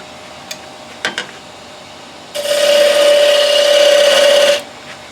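Hand tool working a cove into a wooden 4x4 for a mallet: a few light knocks, then a sustained rasping cut of about two seconds, close and loud, followed by quiet.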